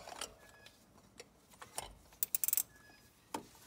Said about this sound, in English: so after it's hand tight, just take your filter socket,